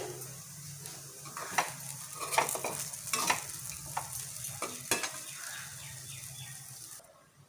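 Valakkai puttu being stirred in a pan, a soft sizzle under a run of scraping, clattering strokes of a spoon, close and moderate, thinning out toward the end with no speech.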